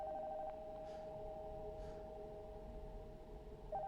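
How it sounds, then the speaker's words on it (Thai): In the horror game Nocturnal Visit, a telephone rings from an upstairs room, a faint electronic trill that pulses twice over a steady tonal hum and low ambient rumble. "โทรศัพท์จากด้านบนมันดังอ่ะ ฉันต้องไปรับซะหน่อย"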